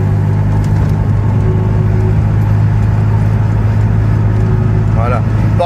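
A Chatenet CH46 microcar's small engine drones steadily from inside the cabin while accelerating, a constant loud rumble with a continuous hum throughout, and a voice talks over it.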